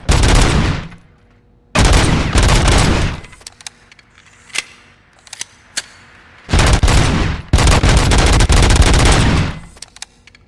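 A service weapon fires at a firing range in the Robocop game: long, loud automatic bursts separated by quiet gaps with a few sharp single shots, close and alone.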